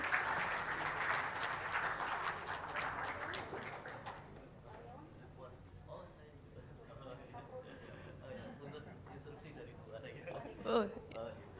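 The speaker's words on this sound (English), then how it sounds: "Give it a round of applause." Audience applause at an international conference, a dense burst of clapping that fades away after a few seconds, followed by murmuring talk and scattered small noises.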